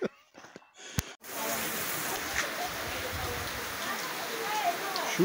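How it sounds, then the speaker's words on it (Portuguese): Rain in the Brazilian sertão, a steady dense hiss of falling rain that comes in after a few brief sharp knocks and then holds at an even, fairly loud level with no voices. "Chuva no sertão!"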